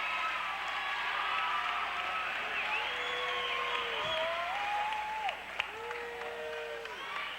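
Loud, sustained crowd roar and cheering fills a high school boys basketball gym during a tight game, a dense wall of voices with whistles and shouts rising over it, dipping briefly near the end.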